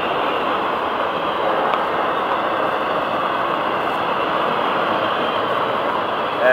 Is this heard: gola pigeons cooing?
no